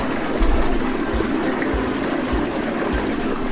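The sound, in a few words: toilet flushing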